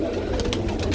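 Pigeons make soft low cooing that runs steadily through the moment, with a few brief brighter chirps or rustles on top. The sound is close and continuous, and no one speaks.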